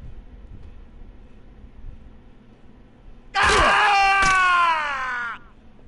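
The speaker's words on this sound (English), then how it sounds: "I enjoy that scream." A loud, drawn-out scream from a Game of Thrones video game bursts in abruptly after a quiet stretch, rising harsh and wailing, holding for about two seconds, then cutting off.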